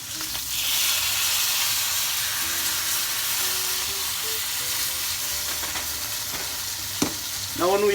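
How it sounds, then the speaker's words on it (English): Steak frying in a pan while a butter and oil mixture is spooned over it, a steady loud sizzle and hiss throughout with a few clinks of the spoon near the end. "basting the butter oil mixture over our steak will give it more moisture"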